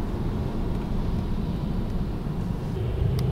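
A 2020 Mercedes-AMG C63 S Coupe drives through the city at night on wet roads, with a loud, steady engine drone and tyre rumble filling the cabin.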